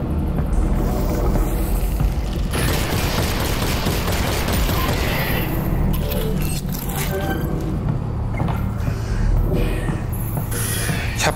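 Dense, continuous automatic gunfire from the video game Half-Life: Alyx rattles on without pause over a low rumble, loud and close throughout.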